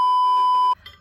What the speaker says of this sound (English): I just got a text.